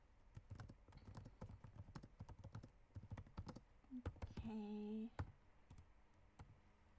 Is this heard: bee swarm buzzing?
no